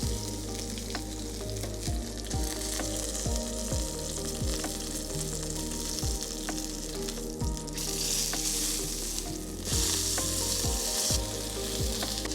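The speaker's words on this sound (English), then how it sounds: "We've got a fat cap here that we're going to try to render out a little bit." A steak's fat cap sears and renders in a hot pan with a loud continuous sizzle and spitting crackle, close up, the frying rising in intensity toward the end.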